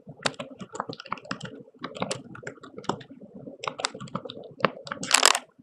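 Fingers tap out a search keyword on a computer keyboard in an irregular run of crisp, close clicks and key strikes, ending in a louder cluster of presses.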